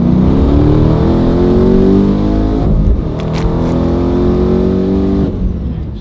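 A twin-turbo Dodge Challenger 392 engine roars loud and close, holding a heavy high rev before briefly dipping and surging again, a deep sustained rumble with no voices.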